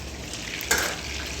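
Fish sizzling as it fries in a pan, with a steady crackle of hot oil and one sharp clink or stir partway through, close and fairly loud, with no talking.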